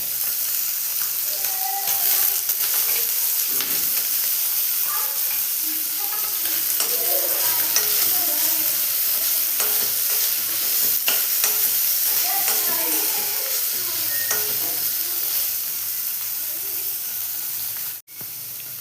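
Paneer roasts in oil in a pan, giving a long, steady sizzling hiss close by, with occasional spatula clicks and scrapes as the pieces are turned; the sound stops abruptly for a moment near the end.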